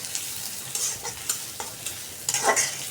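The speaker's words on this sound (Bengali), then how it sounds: "সরিষার তেল দিয়ে ভাজতেছি। পেঁয়াজটা ভাজা নিতেছি।" Onion frying in mustard oil, a close steady sizzle with repeated scraping and stirring strokes of a spoon in the pan and no talking.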